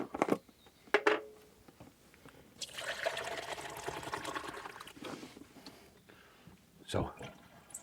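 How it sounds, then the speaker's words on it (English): Hot water poured from a jug into a caravan sink makes a splashing rush for a few seconds after some knocks and clatter, with a sharp knock near the end and talk at moments. "taking our hot water now, with our jug, we're going to fill it up with some water now."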